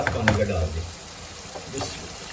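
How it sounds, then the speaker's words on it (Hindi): A glass of water poured into a pan of tandoori potatoes being cooked, a broad hissing, sizzling wash that fades to a steady simmer, with a voice speaking over the start. "1 गिलास पानी का डाल दें"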